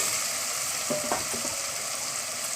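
Vegetables and peas sauté in a pan for bread brinji rice, giving an even, close sizzle with a few quick stirring scrapes in the middle.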